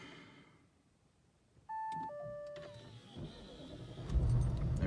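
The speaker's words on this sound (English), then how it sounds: "I can start the car." Inside a car after transmission programming, a few dashboard warning chimes ring out. The engine then cranks and catches, settling into a rising low rumble close by with no talking.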